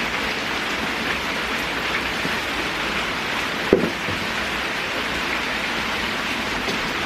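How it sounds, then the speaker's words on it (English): Steady rain falls with a constant, dense hiss, where a potted fern has been set out to catch it. A single brief knock sounds about halfway through, and no one speaks. "Now my fern can get some rain."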